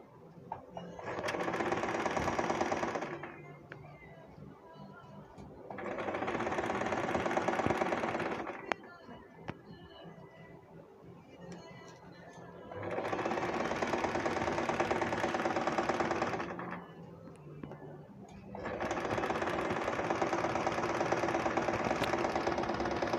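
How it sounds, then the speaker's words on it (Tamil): A sewing machine stitching panel-skirt fabric runs in four bursts of rapid, steady mechanical whirring, each several seconds long, separated by quieter pauses with faint handling noise; close and fairly loud. "துணியை வந்து இழுக்காமல் தைங்க."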